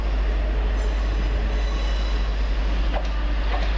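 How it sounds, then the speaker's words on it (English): A Class 158 train, unit 158851, rumbles into a station platform steadily with a constant low drone, brief wheel squeals cutting through near the end. "it's coming in. This is our train,"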